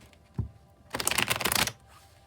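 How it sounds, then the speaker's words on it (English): A tarot deck is shuffled at close range: a single soft tap, then a dense riffling burst of card flutter lasting under a second, fading back to quiet room tone with no talk. "I'll shuffle till the deck feels ready, and then I'll cut"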